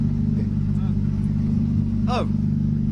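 Rally car on a night special stage, SS6 Queimadela/Travassos of Rally Fafe Montelongo 2020, with a steady loud low engine drone throughout and voices chattering over it.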